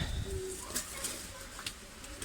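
Pigeons being fed on a balcony in rainy weather give a low, soft coo nearby amid a steady background hiss, with a faint voice in the mix.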